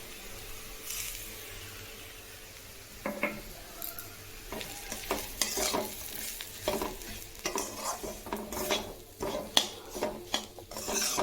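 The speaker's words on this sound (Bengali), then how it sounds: "তারপর সুজিটা দিয়ে দিলাম এবার আরও একটু ভাজতে হবে" Semolina stirred and fried with browned onions in a pan for upma, a close spoon scraping and rasping in uneven strokes over a soft sizzle, with no talk.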